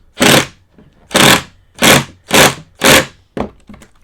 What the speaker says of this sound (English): I'm using my Festool TID 18 to drive this pocket screw.